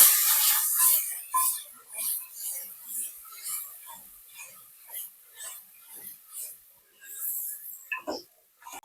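Onion, ginger-garlic paste and ground mint-coriander paste sauté in a pan, giving close, soft sizzling hisses in short repeated bursts as they are stirred.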